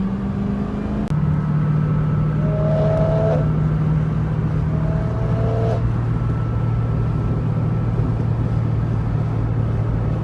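A Dodge Charger engine with a newly installed exhaust drones steadily nearby with a low, raspy note, rising in brief revs before settling into a constant rumble.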